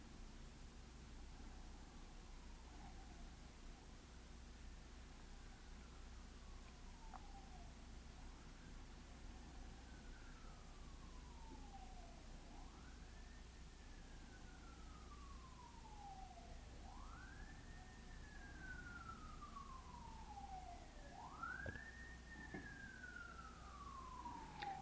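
A distant siren wails in repeated rising and falling sweeps, growing slightly louder and clearer toward the end over a steady background hum.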